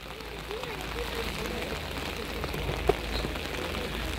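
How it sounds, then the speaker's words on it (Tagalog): Heavy rain pours steadily near a Catholic church in South Korea, a dense, even hiss throughout with a faint muffled background. "Ang lakas ng ulan."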